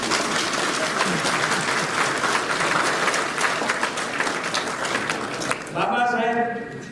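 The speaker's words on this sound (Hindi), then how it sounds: "ताली तो बजाओ" An audience at a university convocation ceremony applauds steadily for several seconds, dense continuous clapping filling the hall before a voice begins speaking at the end.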